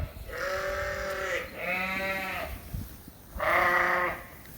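Sheep and lambs bleating in a barn with a separate lamb creep area, three long wavering bleats from nearby animals, moderately loud, with quiet gaps between them.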